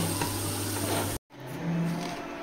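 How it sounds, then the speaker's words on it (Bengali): A spice paste with turmeric and cumin fries in a pan, a close hissing sizzle that cuts out briefly midway, then resumes somewhat softer with stirring noises. "এবার মশলাটাকে আমি ভালোভাবে ভেজে নেবো"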